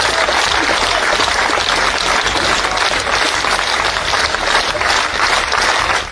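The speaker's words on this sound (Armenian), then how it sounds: "Աջակիցները ծափարություններով են ճանապարհել Ծառուկյանին։" Supporters applaud Gagik Tsarukyan as he is led away after questioning, a dense, steady wall of clapping from a large crowd that holds at full loudness throughout.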